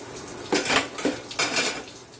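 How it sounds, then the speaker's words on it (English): Metal cover being set back onto a cooking pan where chicken is boiling for Spanish chicken and rice; two or three close clanks and scrapes of metal on metal, no voices. "I'm just going to put the cover back on there, let it vent."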